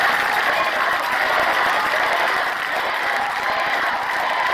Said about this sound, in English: Listen to the cheers from the crowd.